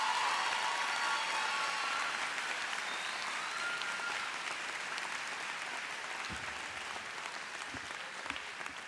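At a Kendall College graduation ceremony, a large audience applauds in a sustained, distant-sounding roar of clapping that gradually softens toward the end.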